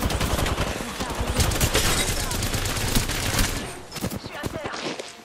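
Rapid automatic gunfire rattles through an Apex Legends firefight, dense overlapping bursts loud and close with brief gaps, with a voice briefly talking over the shooting.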